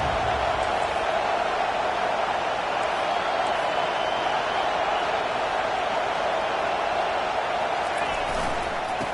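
A packed stadium crowd at an LSU college football game keeps up a loud, continuous roar that holds steady and unbroken from start to finish.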